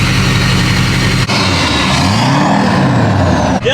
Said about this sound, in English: There's a hole right in the exhaust.